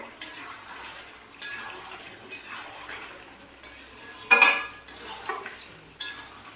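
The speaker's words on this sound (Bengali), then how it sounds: "ওটাকে নাড়া দিচ্ছি।" Spoon stirring chicken kosha with potatoes in a pan, soft scraping strokes and light metallic clinks in uneven bursts close by, with one louder scrape midway.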